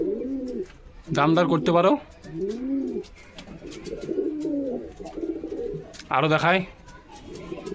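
Pigeons offered for sale, including a male green pigeon and two female mushki pigeons, coo in repeated soft rolling phrases close by, interrupted by two bursts of someone talking over them.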